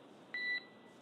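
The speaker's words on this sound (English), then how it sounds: "we heard a beep" A single short electronic beep, about a quarter second long, cuts through the faint hiss of SpaceX Polaris Dawn spacewalk radio communications.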